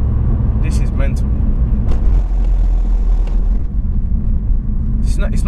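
A 287 bhp tuned Mk1 Seat Leon Cupra R 225 BAM roars loudly from inside the cabin with a dense, constant engine drone, and people talk over it throughout.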